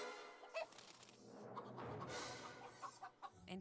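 A chicken clucks in the video game Minecraft, a few quiet, short calls spread through a faint clip with a soft murmur of background sound.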